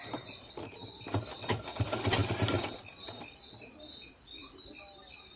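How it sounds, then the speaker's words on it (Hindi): A sewing machine stitches a folded katori blouse, giving a steady close whir with a rapid patter of the needle. The stitching swells and eases in short runs, with no talking. "इससे मोड़ करके इसमें भी वैसी उसी प्रकार से सिलाई कर देते हैं।"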